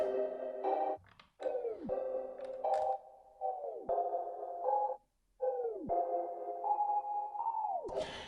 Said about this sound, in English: it actually is just like a pluck synth that I had in Omnisphere